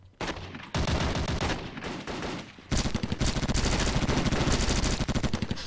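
Gunfire in the Kuboom multiplayer shooter: short automatic bursts after a quiet start, then a longer rapid stream of loud shots.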